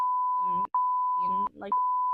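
Censor beeps bleep out names in a podcast chat, three long steady tones broken by quick snatches of speech, with the tone running loud nearly the whole time.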